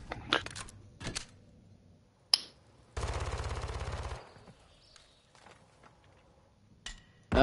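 Video game gunfire: scattered single shots, then a sustained rapid automatic burst of about a second, followed by more isolated sharp reports amid quiet gaps.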